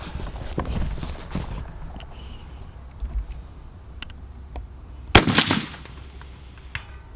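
A single sharp rifle shot from a BCM rifle with a 14.5-inch or 12.5-inch barrel cracks loudly on an outdoor shooting range, firing at a target. Quieter footsteps and shuffling come before it, and a short tail follows.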